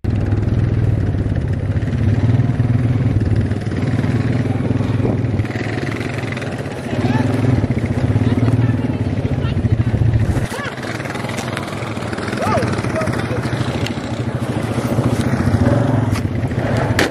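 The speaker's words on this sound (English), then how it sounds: "Been my first time riding on an ATV." An ATV engine drones steadily throughout a ride, rising and falling with throttle and rattling along, loud and close, with a brief dip near the middle.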